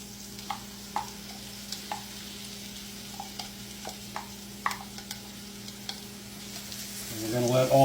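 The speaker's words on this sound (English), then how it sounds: "We're going to let all that saute for a little bit." Peppers sautéing in a pan for vegetarian mini Jamaican patties, a soft continuous sizzle with periodic clicks of a utensil stirring, close by, swelling louder in the last second.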